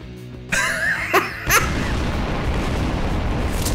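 A bomb goes off in the sandbox game Garry's Mod, a sudden deep boom followed by a rumbling tail that lingers for a couple of seconds after a few short vocal noises.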